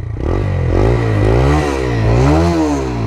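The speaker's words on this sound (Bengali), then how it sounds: "এক্সস্টের সাউন্ডটা শোনেন" A 125cc motorcycle's exhaust note, loud and close, as the bike is ridden, with the engine rising and falling through revs and no talking over it.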